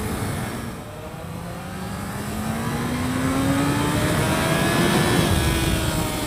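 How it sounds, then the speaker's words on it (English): A Honda CBR954RR FireBlade motorcycle revs hard in first gear, its engine note climbing steadily in a loud, continuous drone with no talking. "changing or like revving it through in first gear"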